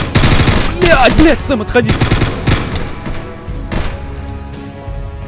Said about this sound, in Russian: Или стреляют просто. Они стреляют по кому-то